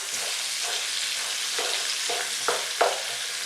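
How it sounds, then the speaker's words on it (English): Onions sautéing in a hot pan for turkey wings, a steady sizzle running throughout with several short scraping bursts as a utensil stirs them, close and alone with no talk. "let's stir it around a little bit. I want those onions to kind of saute down."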